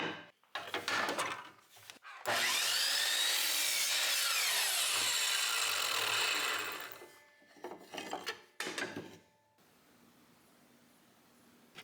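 A miter saw cuts wooden table legs to length, a loud sustained rasping whine of several seconds, framed by shorter bursts of sawing and handling noise before and after.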